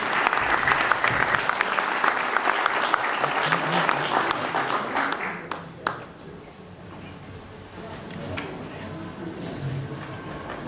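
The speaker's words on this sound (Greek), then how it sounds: "Ένα χειροκρότημα στην Ελένη." An audience at a fiftieth-anniversary school alumni gathering applauds a young pianist named Eleni, warm sustained clapping that fades after about six seconds into a murmur of low voices and a few stray claps.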